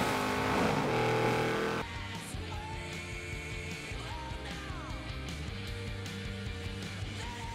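An Audi RS7 racing in the Forza video game: a loud engine roar that drops after two seconds into a steadier drone, with rising and falling revs and brief tire squeals as it drives.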